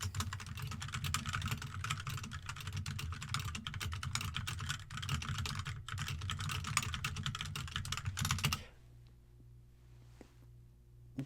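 Rapid, continuous typing clatters on a computer keyboard, close and crisp for about eight seconds, then stops abruptly, leaving a quiet room with a low hum.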